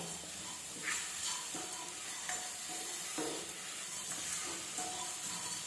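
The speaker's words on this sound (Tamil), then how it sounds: "லைட்டாக வதக்கிக்குவோம்." Ingredients sautéing lightly in a pan, with a steady soft sizzle and repeated spoon-stirring scrapes over about six seconds, close by with no talking.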